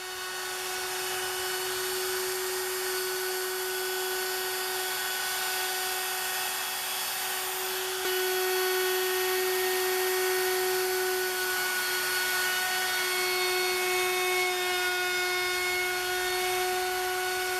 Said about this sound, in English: I did this by using a trim router and a round over bit.